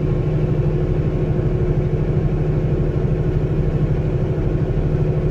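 A truck on the freeway near Laramie, Wyoming hums with a steady, loud low engine drone and rhythmic pulsing as the driver shifts up into 9th gear at low RPM.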